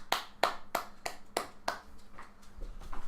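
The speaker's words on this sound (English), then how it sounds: "Even I'm clapping for this guy." One person claps hands nearby: five or six sharp, evenly spaced claps, followed by a few softer, quicker taps.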